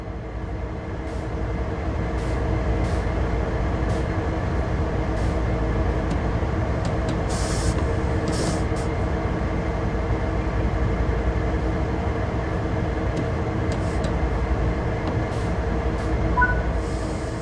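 Train locomotive in Train Sim World 3 sitting with its automatic brake fully released, giving a continuous loud rumbling drone with faint clicks and brief hissy bursts over the top, no one speaking.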